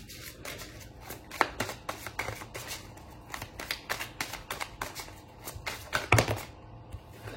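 A deck of high-quality cards is shuffled by hand up close, with a quick series of papery riffling bursts and soft slaps in an irregular rhythm, heard alone without talk.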